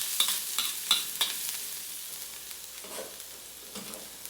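Garlic, onion and chili stir-fry in oil for spicy shrimp silog, with a few sharp spatula clinks up front, then a soft steady sizzle and scraping stirs, close and moderately quiet.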